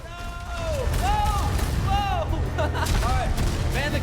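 Ship cannons boom in a rapid barrage during a naval battle in the Sea of Thieves video game, loud repeated blasts mixed with shouting and excited voices throughout.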